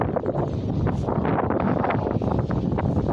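Strong gusty wind buffets the microphone outdoors in a continuous loud roar, with no voices.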